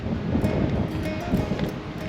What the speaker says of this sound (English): It's rugged but peaceful and really windy.